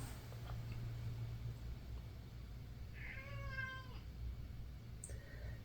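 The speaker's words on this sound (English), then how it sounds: "I have a very needy cat outside." A cat outdoors gives a single drawn-out meow, clear but moderately soft, over a steady low hum of background noise, followed by a brief higher squeak.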